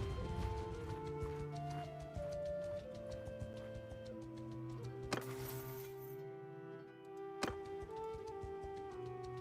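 Horse hooves clip-clop steadily in Mount & Blade II: Bannerlord as a mounted character travels, a soft rhythmic trot under sustained game music.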